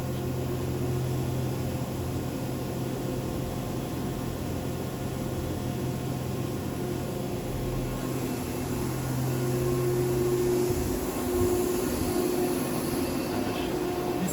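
Five-axis CNC machine milling a pocket with lubrication, a steady loud whine with sustained tones and a hiss of coolant, shifting pitch partway through as the cut changes.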